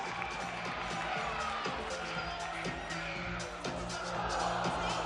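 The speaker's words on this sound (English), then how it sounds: "Give it up for him, Wellington. Cheer him on." Basketball arena crowd in Wellington cheering and whooping for a player at a Saints versus Rams game, a dense sustained roar with rhythmic thumping underneath, fairly distant.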